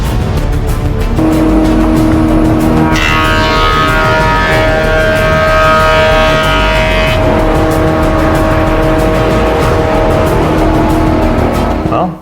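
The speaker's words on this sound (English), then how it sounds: "I just need to run it through a planer so I get a nice smooth flat surface on both sides" Glued-up beech boards feed through a planer, which roars loudly and continuously for about twelve seconds, its pitch rising into a harsher, brighter cutting whine midway as the blades bite, then settling back to a steady drone.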